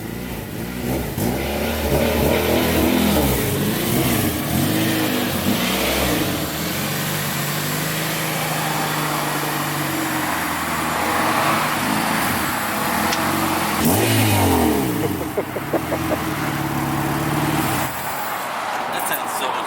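A Honda Integra fitted with a Vibrant dual-tip exhaust revs repeatedly nearby, loud rising and falling engine pulls over a steady idle for most of the clip, then dropping off at the end.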